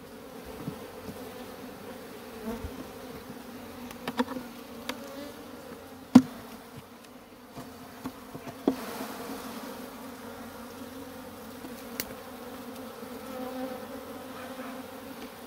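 Honeybees buzz steadily around an old comb in a hive that seems queenless with little brood, a close, continuous hum broken by a few sharp clicks and knocks, with no talking.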